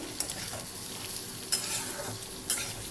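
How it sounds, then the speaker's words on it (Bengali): Diced potatoes fry in mustard oil in a wok with a steady close sizzle, stirred with scraping strokes and sharp utensil clinks at intervals, no voices. "এবার কড়াইতে সর্ষের তেল দিয়ে আলুগুলো এরকম ডুমো ডুমো করে কেটে নিয়েছিলাম, নিয়ে তেলের মধ্যে দিয়ে দিয়েছি। এবার একটু হালকা করে ভেজে নিতে হবে।"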